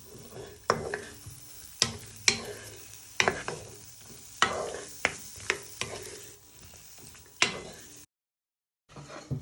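Onions, chillies, garlic and ginger fry in a pan, a steady sizzle broken by repeated scraping clatters as the pan is shaken and tossed, close, ending in a brief drop to silence.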